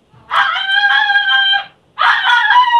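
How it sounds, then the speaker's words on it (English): A dog lets out two loud, drawn-out howling cries close by, the first longer than the second, with a short pause between them. "Sorry, my dog in the background."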